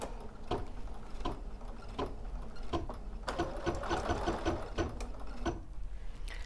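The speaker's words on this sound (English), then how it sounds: "now I can lower my foot and start to sew" A sewing machine stitches over couched wool in freehand embroidery, a fast, steady mechanical whirring and rhythmic needle thumping heard up close, with a few louder clunks as it runs.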